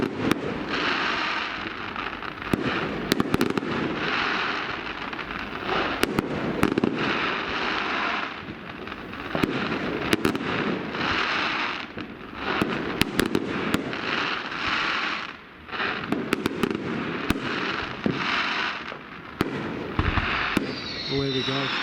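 A fireworks display bursts and crackles repeatedly and fairly close, with shells popping at irregular intervals over a steady, hissing crackle, and voices can be heard faintly among the explosions.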